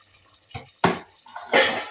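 Water is poured from a cup onto three cups of soaking basmati rice for chicken biryani, giving a few short, close splashing gushes with brief pauses between them.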